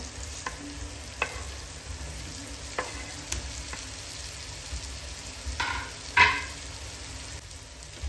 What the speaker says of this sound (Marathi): तर त्यामध्ये आपण आता उभे चिरलेले जे भेंडे आहेत ते आपण यामध्ये आता टाकून घेणार आहोत।